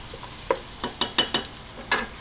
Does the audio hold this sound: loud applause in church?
no